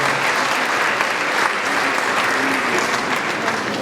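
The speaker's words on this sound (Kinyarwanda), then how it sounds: "Tubakomere amashyi tubashimire cyane" A crowd at a wedding reception claps for the newlyweds in loud, steady, dense applause that lasts throughout, with a faint murmur of voices beneath it.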